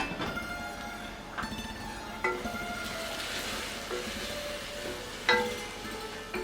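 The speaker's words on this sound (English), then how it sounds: "Reduce the flame to low and cook this till the tomatoes are soft." Tomatoes with salt cooking on a low flame in a pressure cooker give a steady soft sizzle with occasional clinks and stirring scrapes, close and even throughout.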